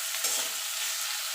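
Tomato frying with browned onions in a pan for simple masoor dal, a short burst of close, even sizzling with a light stir.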